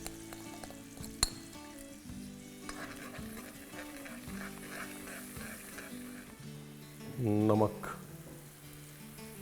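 Stuffing masala with chopped ginger and green chili is roasted in a pan for stuffed tinda, a soft sizzle under steady stirring and occasional utensil clinks, with a voice speaking over it and a brief louder scrape near the end.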